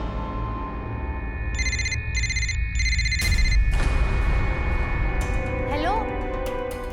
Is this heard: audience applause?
no